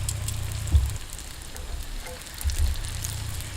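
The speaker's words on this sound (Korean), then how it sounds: "끓는 기름에 넣어줄게요." A battered cheese corn dog fries in hot oil heated to about 170 degrees, giving a steady soft sizzle and bubbling that carries on throughout with no talk.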